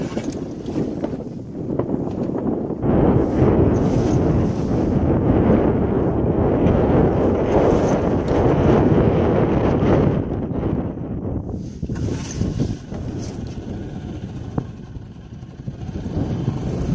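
Strong wind buffets the microphone on a boat out on the water during a river trip on the Rivière du Poste, a loud continuous roar that swells through the middle and eases slightly toward the end.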